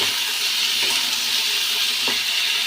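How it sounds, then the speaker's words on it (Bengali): Potatoes with salt and turmeric fry in a hot wok, giving a loud, close, continuous sizzle with a couple of soft stirring knocks. "আলুটার মধ্যে আমি সামান্য নুন আর হলুদ দিয়ে কিন্তু আলুটা কিন্তু আমি ভাজা ভাজা করে নিচ্ছি"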